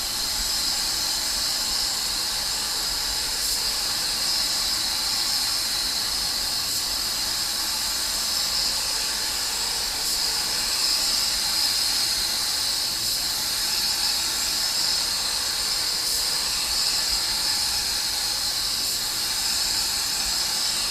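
A paint spray gun lays sealer onto a car, making a continuous, even hiss with no breaks.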